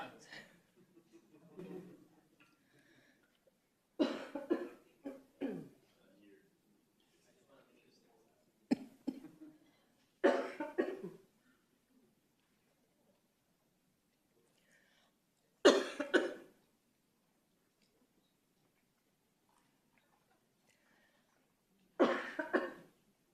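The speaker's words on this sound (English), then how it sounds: "I do have a little bit of a coughing fit going on" A coughing fit during a school governing board meeting: separate bursts of harsh, close coughing spaced out over quiet stretches, with several sharp coughs in a row at times and a throat-clearing feel between them.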